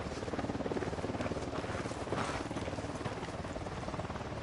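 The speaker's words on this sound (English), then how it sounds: "Chopper's approaching." Helicopter approaching in the video game Ghost Recon Wildlands, a steady broadband rotor and engine roar that stays loud and constant throughout with a faint rhythmic chop.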